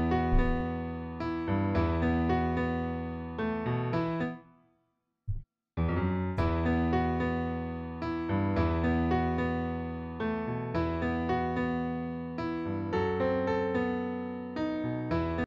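An FL Studio beat with a bouncy bass line added under a looping melodic pattern plays steadily, pausing briefly near the middle before the full pattern resumes.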